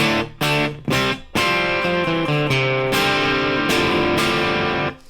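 Loud electric guitar chords from a 2004 Fender Stratocaster through a Mesa Boogie Fillmore 50 amp profile with no pedals, first struck in short separate stabs, then ringing out in sustained strums before fading at the end.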